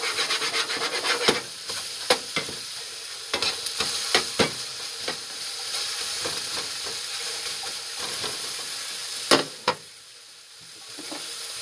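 Scallops fry in a pan and are stirred, giving a steady hiss of sizzling broken by sharp scraping strokes of a utensil at irregular intervals, close and clear, with no talk.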